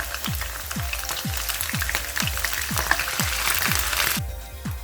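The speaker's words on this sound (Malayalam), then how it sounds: "ഞാൻ ഈ എണ്ണയിലേക്ക് ഇഞ്ചി വെളുത്തുള്ളി നേരത്തെ അരിഞ്ഞു വെച്ചത് തന്നെ ഇടുവാണ്." Chopped ginger and garlic fry in hot coconut oil with a steady crackling sizzle. A regular low thumping pulse runs underneath, and the sizzle drops off sharply near the end.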